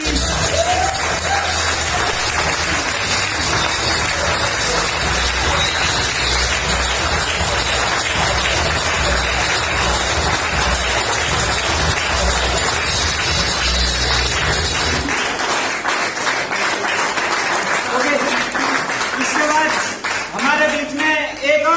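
Audience in a business recognition meeting hall applauds and cheers loudly as a platinum director is welcomed on stage, dense sustained clapping with whoops, thinning toward the end.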